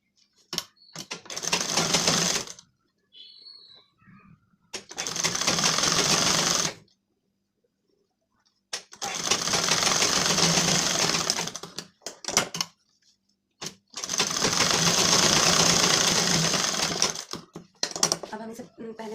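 Sewing machine stitching tucks into a blouse, running in three long steady bursts with short pauses between them, close and fairly loud.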